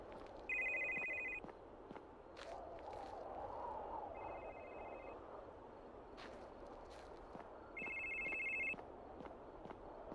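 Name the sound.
telephone ringing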